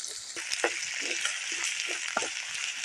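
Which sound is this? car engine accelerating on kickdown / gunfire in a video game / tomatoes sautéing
tomatoes sautéing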